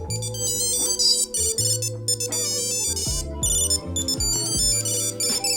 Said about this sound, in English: it looks like you can change each of the ringtones so that you can find that